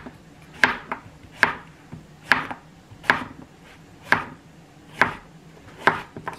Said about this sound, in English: So I'm cutting these zucchini on the bias.